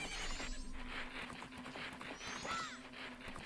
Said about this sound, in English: My beautiful low poly horse.